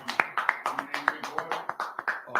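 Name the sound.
audience clapping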